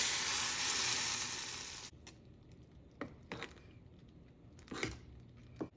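Hot tempering is poured into cooking dal (lentils) and sets off a loud, hissing sizzle that cuts off sharply after about two seconds. A few faint clinks and scrapes of utensils follow in the quiet.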